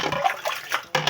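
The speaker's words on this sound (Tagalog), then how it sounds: "So pagka may laman na yung planggana mo, ayan, banlawan na natin." Dishes are rinsed by hand in a basin of water, giving a short burst of sloshing and splashing in a few quick swishes that end in a sharper splash.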